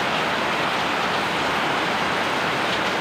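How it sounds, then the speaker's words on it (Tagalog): Rain keeps falling steadily, a dense, even hiss of drops on surfaces that stays loud and unchanging throughout, with no voices. "nandyan pa rin yung ulan"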